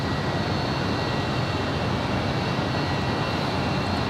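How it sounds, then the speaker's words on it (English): A FedEx Boeing 767-300 freighter departs LAX, its jet roar a steady, broadband rumble that holds constant and fairly loud throughout, with no voices. "It's a 767-300 freighter."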